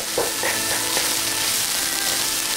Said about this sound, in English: Make sure the eggs mix well with the rest of the ingredients, and then breaking the eggs up into fine small pieces.